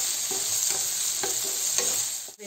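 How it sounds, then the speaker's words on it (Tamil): Paneer and vegetables stir-fry in a pan for Schezwan fried rice: a loud, continuous sizzle broken by regular spatula strokes about twice a second, close up and without speech. "அதில் லைட்டாக ஃப்ரை ஆகிடுச்சு, இந்த டைமில் எல்லாமே மிக்ஸ் பண்ணிக்கலாம்."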